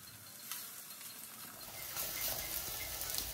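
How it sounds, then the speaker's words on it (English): Chicken seekh kebab sizzles on a hot tray, a steady hiss that swells after about two seconds, close and moderately loud, with no voices. "I'm gonna place the kebab in a hot tray."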